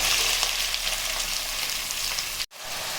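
Onions, green chillies and cumin frying in hot oil, a loud dense sizzle close up that cuts out abruptly near the end, then resumes briefly.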